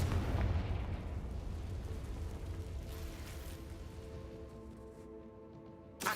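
Confringo blasting spell in a Harry Potter video game, a booming explosion at the start that rumbles and fades into a lingering low tail, ending with a sharp burst.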